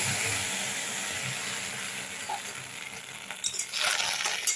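Mango paste cooks in a hot pan on a gas stove with a steady, soft sizzle, and a few clinking stirs and scrapes come near the end.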